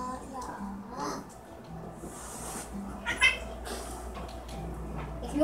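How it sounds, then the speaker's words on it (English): A couple of short, high meows from a cat in Minecraft, cartoonish, heard under ongoing talk. "the cat sound."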